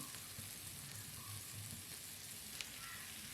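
Capsicum hitting sizzling masala in a pan while cooking capsicum rice bath, a soft continuous frying crackle with occasional light stirring taps and one small sharp click, quiet and close, without talk.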